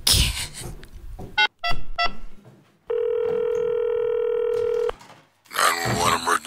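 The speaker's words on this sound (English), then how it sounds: "I'm gonna dial again." A telephone dials out on an emergency call: a quick run of short beeping keypad tones, then a steady held tone for about two seconds, with a voice talking before and after.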